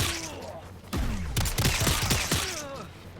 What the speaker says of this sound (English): T1000 will pull out a gun and start shooting 2 bullets towards the opponent.